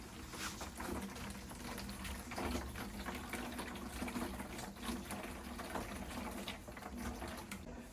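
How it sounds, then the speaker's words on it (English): Clean water is poured into a portable salon sink, giving a steady, faint gushing and filling sound that runs continuously without speech. "Just pour the water in here."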